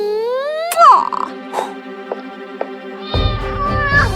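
A cat gives a few loud, close meows and a drawn-out caterwauling cry, with varied pitch and short pauses between calls, over a faint musical background.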